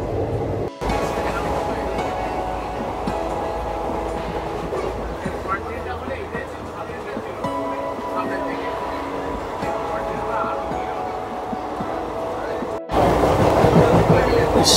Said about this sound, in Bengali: ট্রেন সবে ছেড়েছে